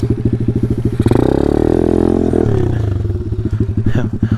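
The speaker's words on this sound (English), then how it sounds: "my wheel was sliding back in that dirt" Dirt bike engine chugging and revving as its wheel slides back in loose dirt, a rapid pulsing putter that swells into a sustained rev, then drops back to pulsing, close and loud.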